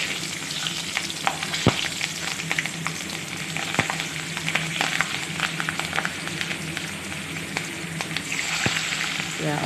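Panch phoron and dried red chillies frying in oil, a dense continuous sizzle with occasional sharp crackles and pops, close and steady throughout.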